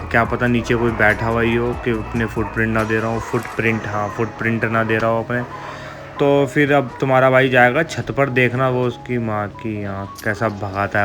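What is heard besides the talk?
No everyday noise stands out behind the speech.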